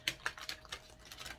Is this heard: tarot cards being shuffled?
yes